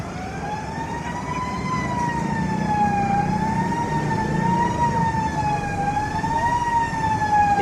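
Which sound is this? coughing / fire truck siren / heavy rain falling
fire truck siren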